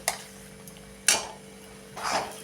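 Egg bhurji being stirred in a pan, with three scraping strokes of a spoon against the metal at roughly even intervals, close and fairly quiet over a low steady background hum.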